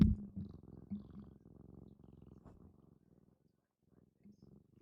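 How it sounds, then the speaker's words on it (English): A soft, steady low rumble of a cat purring close by, fading gradually quieter toward the end with brief pauses. "I don't know if you guys can hear her purring again."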